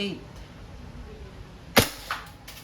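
A WE Glock 17 Gen 5 airsoft pistol fires one sharp, close crack, followed by two fainter mechanical clacks in quick succession.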